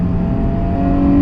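A Hyundai Genesis Coupe second-generation 3.8L engine with an aftermarket intake holds a steady, loud, continuous drone of revving, close by with no talk.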